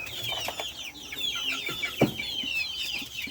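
Chickens being given deworming medicine in their water cluck and chatter nearby in a steady overlapping flock noise, with one louder squawk partway through and no talk.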